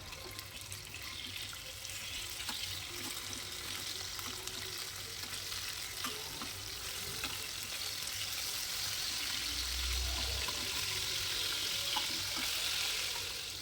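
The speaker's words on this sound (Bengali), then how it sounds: "তেলটা গরম হলে এক এক করে সব মাছগুলো দিয়ে দেব। এগুলোকে এপিট ওপিট করে সুন্দর করে লাল লাল করে ভেজে নেব।" Fish fry in hot oil in a wok, a soft, continuous sizzle and crackle heard close but faint, with occasional stirring sounds and a brief low bump near the end.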